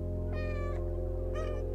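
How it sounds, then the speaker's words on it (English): Cat meows from the video game Stray, two short clear tonal meows over a steady low electrical hum. "I can press the meow button as well"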